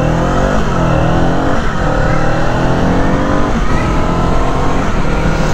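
A new Kawasaki cruiser motorcycle pulling away and accelerating, its engine note rising steadily through several gear changes, loud and continuous from the rider's position.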